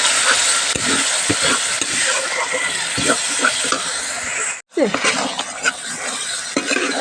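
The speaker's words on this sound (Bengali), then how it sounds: "এবার মশলাটা খুব দারুণ করে কষাবো" Spice paste with ground green chili frying and being stirred hard in a pan for a country chicken curry, a continuous sizzle broken by scraping and clinking strokes, up close, with one brief drop to near silence.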